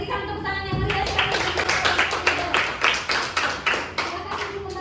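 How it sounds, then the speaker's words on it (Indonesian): Students in a classroom give a lively round of clapping after a group presentation, with quick bright claps rising after a spoken start and continuing steadily to the end. "Berikan tepuk tangan yang meriah sekali"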